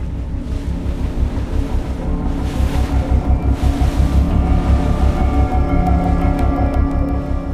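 A ship churns through open water on the Baltic Sea, a steady low engine drone with rushing wash and wind buffeting, continuous and fairly loud with no voices.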